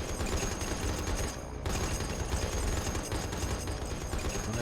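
Dense, continuous machine-gun fire from attacking Blenheim aircraft in the naval combat game War on the Sea, loud and sustained with only a brief dip partway through.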